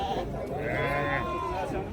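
Sheep and lambs bleating at the Kashgar livestock bazaar, a near, drawn-out wavering bleat rising over a busy crowd while someone talks close by.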